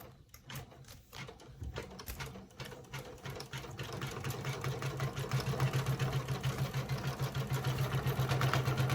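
A sewing and embroidery machine runs steadily, a close mechanical whir with a fast rhythmic needle clatter that grows louder and denser over the stretch, with a few handling knocks near the start.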